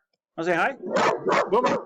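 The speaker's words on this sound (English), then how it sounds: "Oh, yeah, he's kind of barking there." A pet dog gives several short barks close by, overlapping with a person's speech.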